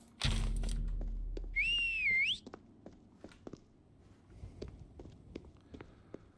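Whistling for a companion in the heavily modded game Elder Scrolls 4: Oblivion, a rising and falling melodic whistle lasting about a second over a low rumble, followed by steady in-game footsteps.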